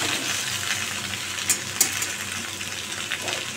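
A paste of cumin, coriander and turmeric soaked in hot water fries in a pan, giving a steady close sizzle broken by a few brief sharp clicks.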